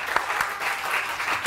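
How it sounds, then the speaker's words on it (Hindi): A studio audience on a live Samaa TV morning show breaks into a short, steady burst of clapping, dense and fairly close, lasting about a second and a half with no talk over it. "तालियां बजाएं जोर से"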